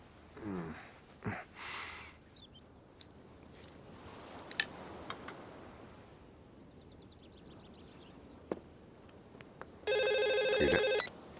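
A telephone rings once in a short electronic burst near the end, after a stretch of quiet room noise with a few soft knocks.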